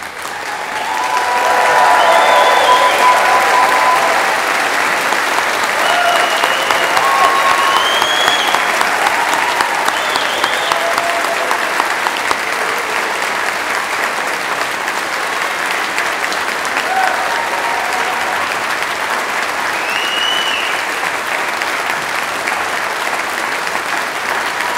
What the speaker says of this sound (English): to mark the success of our graduands by giving them a very loud round of applause